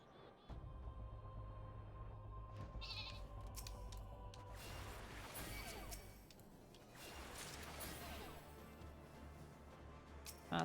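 Sheep bleat in a video game landscape, several quavering cries rising over faint ambient game sounds and an occasional whoosh, fairly quiet overall.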